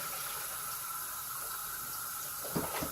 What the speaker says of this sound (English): Trying to cool down my eggs.